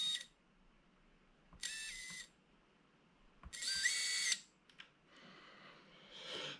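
Brushless motors on a lightweight freestyle FPV drone spun up one at a time, each giving a short high-pitched whining buzz of about a second, separated by near silence, close by.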